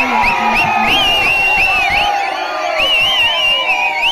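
A dense crowd cheers and whoops at Vijayabaskar's election campaign rally in Viralimalai, with shrill whistles warbling over a continuous roar that holds loud and steady throughout.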